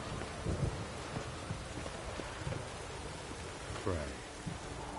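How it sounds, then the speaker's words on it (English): Steady rain falls in The Witcher 3 video game, a dense hiss that fills the scene, with low rumbling thunder rolling beneath it and a louder thunder roll near the end. "Rain like this would fetch a fortune in Zerrikania."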